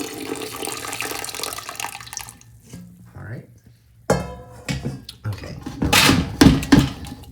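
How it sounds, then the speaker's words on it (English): Water pours and splashes into a pot of tall goldenrod flowers being prepared for dyeing. A loud, close burst of running water comes near the end, after quieter handling sounds. "we just want to cover these up with water, so I'm going to grab some water"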